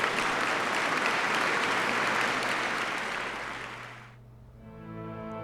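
Theatre applause from The Lion's Song video game swells as a dense, sustained clapping crowd after a performance, then cuts off abruptly near the end as soft music takes over.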